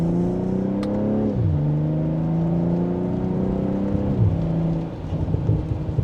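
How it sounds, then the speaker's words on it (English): A 2025 BMW M340i in sport mode, second gear, its engine revving hard with rising and falling pitch across gear changes, loud and close from inside the cabin, with a few crackles from the exhaust as the revs drop. "You get a few pops in that exhaust there, which is nice to hear."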